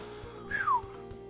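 A person whistles into a microphone to imitate wind in a VR video game, giving one short falling whistle over a faint steady hum.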